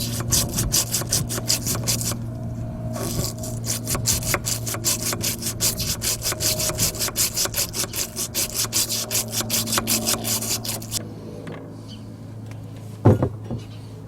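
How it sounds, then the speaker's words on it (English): A small bottle brush scrubs old grease out of brake parts for a 2011 Chrysler 200 in fast, rhythmic strokes, loud and close, then stops near the end with a brief clunk. "I'm going to take a small bottle brush and clean them out really good."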